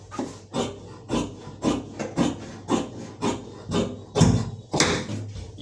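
Scissors cut through formal trouser fabric on a tailoring table in a steady run of about a dozen rhythmic, rasping strokes, close and moderately loud.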